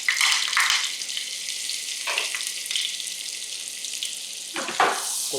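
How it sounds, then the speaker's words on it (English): Butter and Sicilian extra virgin olive oil sizzle steadily in a hot pan, a quiet continuous hiss broken by a few louder crackling spurts and faint clinks. "heat up a little Sicilian extra virgin olive oil. I'm going to toss in just, I don't know, about a half a tablespoon of butter."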